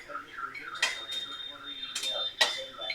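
Fried lentil dumplings are lifted into a bowl with light metallic clinks and taps of a utensil against cookware, a few sharp knocks standing out, and a voice faintly underneath.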